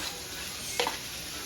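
Ground beef sautéing with garlic in a pan, a steady faint sizzle throughout with one brief scrape of a spoon stirring midway.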